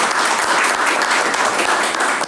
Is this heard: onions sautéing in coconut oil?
no